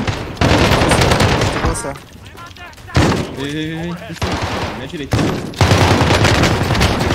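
Call of Duty Warzone gunfire fills the clip with loud, dense automatic bursts in long volleys, broken by short pauses. Players speak briefly partway through.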